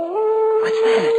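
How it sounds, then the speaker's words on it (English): A dog howls outside at night, a single sustained, steady-pitched howl rising briefly then holding, heard in a radio drama as a voice asks a short question over it. "that was just a dog"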